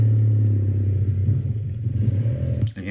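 A motorcycle coasts off the throttle, its engine a low, steady rumble close by that fades slightly before a brief clatter at the end.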